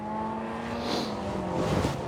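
A Subaru Legacy rally car in Colin McRae throwback livery passes on a gravel forest stage, its engine note rising and sweeping by at moderate distance with a broad rush of noise, steady and continuous over a couple of seconds.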